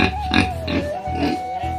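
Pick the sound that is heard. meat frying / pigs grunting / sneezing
pigs grunting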